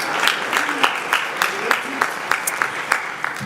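A crowd applauds steadily at a high school graduation convocation, dense clapping with a few sharper individual claps standing out, close and continuous throughout.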